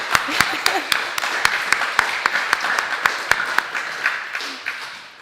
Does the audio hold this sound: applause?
yes